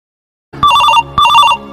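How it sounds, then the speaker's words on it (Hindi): Phone message notification ringtone: two short, bright electronic chime bursts in quick succession, loud and close, after a moment of silence. "अबे यार अब किसका मैसेज गिर गया?"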